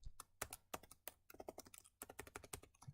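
Rapid clattering keystrokes on a computer keyboard, typed in uneven bursts with short pauses, close and moderately quiet with no talking.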